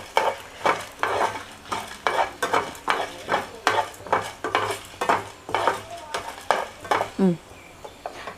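Dried red chillies fry in a pan for Udupi sambar, with a spoon scraping in a quick regular stirring rhythm over a soft sizzle, close and fairly loud, with a brief clatter near the end.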